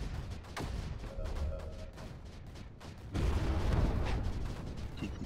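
Mortars firing in the strategy video game Creeper World 4: a dense, rumbling run of booms and thuds that swells louder partway through, with no talk over it.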